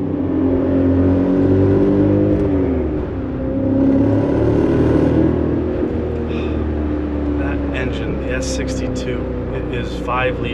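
A BMW E39 M5 with a Dinan S2 package, 5-liter V8, headers, high-flow cats and Dinan mufflers, revs up and settles back in a couple of rising surges, loud and close, with someone talking over the engine throughout.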